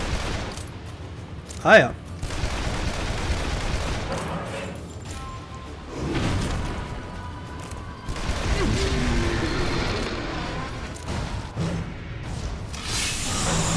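Revolver shots fire in the video game Shadow Warrior, with one sharp loud crack standing out among dense continuous gunfire and mechanical clatter, and a voice speaking briefly over it.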